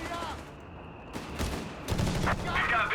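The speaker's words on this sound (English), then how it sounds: "Mortar there dealing with the machine gun team there." Bursts of machine gun fire and mortar impacts crackle in a Company of Heroes 3 battle, faint and layered in a dense volley of shots with some muffled talk.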